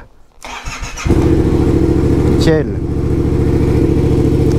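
A Yamaha MT-07 motorcycle engine cranks after a battery change, catches and settles into a loud, throbbing idle with a quick rev; a voice speaks briefly near the start.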